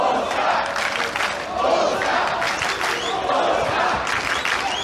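A large crowd shouts and cheers continuously at a beach volleyball match in Rio between United States and Polish women's pairs, a loud, dense roar with rising swells of yelling.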